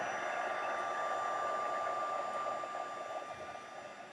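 A heat tool blows steadily on its high setting while melting embossing powder on a handmade Christmas card, producing a continuous airy whir with a faint whine that holds even and then eases slightly toward the end.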